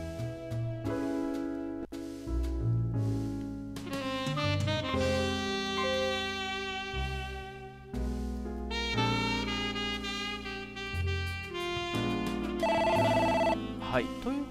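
A telephone rings in the detective game Tantei Jinguji Saburo: Yume no Owari ni, its repeated electronic tones blending with steady background music for about fifteen seconds.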